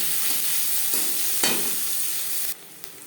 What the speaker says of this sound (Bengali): পরিমাণ মতো রিফাইন্ড অয়েল গরম করে নেওয়ার পর দিয়ে দেবো পেঁয়াজ কুচি, আর দিয়ে দেবো কাঁচা লঙ্কা